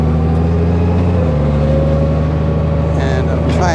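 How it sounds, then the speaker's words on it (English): Exhaust drone of a 2021 Honda Gold Wing DCT motorcycle while riding, a steady loud hum with strong engine harmonics and a slight pitch shift partway, continuous throughout, with a brief higher squeal near the end. "I added another mic in the back of my bike to pick up more of the exhaust sound."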